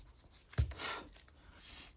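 Marker strokes going over skin tones on paper, faint scratchy rubbing with one sharper tap and a few soft passes, quiet and close.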